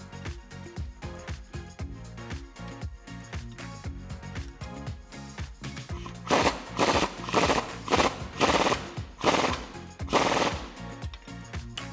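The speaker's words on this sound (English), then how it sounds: "now we're going to tighten this bolt up" A power tool rattles in rapid bursts, driving an 18mm suspension bolt tight on a Jeep Wrangler JL, the hammering impacts growing louder and more forceful in the second half as the bolt seats.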